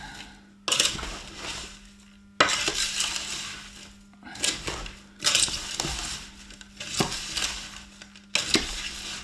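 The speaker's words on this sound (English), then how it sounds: "I'm just going to give it a good stir, get it all mixed in" A spoon scraping and clanking around a pot as spicy onion tomato chutney gets stirred, several loud bursts of scraping with brief pauses between.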